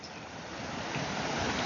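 Heavy water rushes through a drinking-water project dam and chamber after rain, a continuous broadband roar that builds slightly in loudness, with no talk over it.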